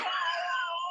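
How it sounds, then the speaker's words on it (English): A cat fight sound effect from a soundboard plays as one sustained, strained, wavering feline yowl, steady and clear with no voices over it. "Hit the cat fight on accident."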